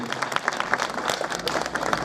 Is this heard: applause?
yes